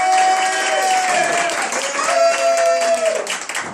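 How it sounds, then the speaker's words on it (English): Applause from a comedy club audience at the Comedy Underground, a steady crowd clapping with a sustained tone over it, moderately loud and continuous throughout. "Round of applause for Shelly"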